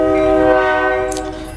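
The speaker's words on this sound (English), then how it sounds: "I got a train rolling by" A train rolls by just across the street outside a house, its horn sounding a loud sustained chord over a low rumble that fades slightly toward the end.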